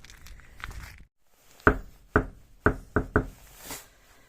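Five sharp knocks on a door in an uneven rhythm, loud and close, after a brief rustle and a moment of silence.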